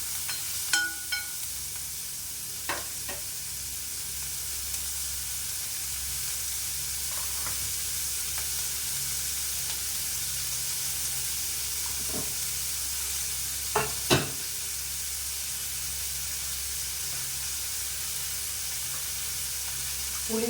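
Something sautéing in a pan for a Tamil home lunch, with a continuous low sizzle and hiss and occasional sharp scrapes and clinks of a spoon stirring against the pan, no voices.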